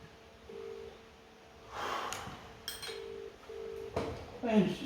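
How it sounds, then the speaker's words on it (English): A house phone rings, heard as faint repeated tone pulses against soft breathing, handling sounds and a few clunks nearby. "just ring the house phone."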